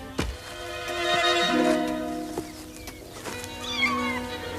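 A cartoon cat meows in a Catalan animated adaptation of a Beatrix Potter tale, with a mother cat searching for her kittens; the clear, drawn-out meow stands over soft background music and a few knocks.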